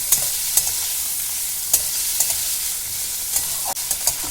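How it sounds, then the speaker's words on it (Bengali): Carrots, beans and chopped green chillies stir-fried in a pan for fried rice: a constant close sizzle broken by a few sharp spatula scrapes and taps, no voices. "কাঁচা লঙ্কার কুঁচো মিশিয়ে দিয়ে ভালো করে নাড়াচাড়া করে নিলাম"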